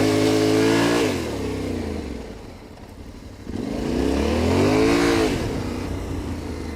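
A Yamaha Tenere 700 adventure motorcycle engine revs up and down while drifting, two rising and falling surges with a dip between, close and loud.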